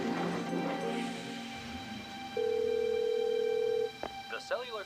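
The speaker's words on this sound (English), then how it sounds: "Come on, answer the phone." A phone call placed from a handset, with faint talk and telephone tones early on, then a steady loud electronic tone of about one and a half seconds, followed by short chirping signal tones.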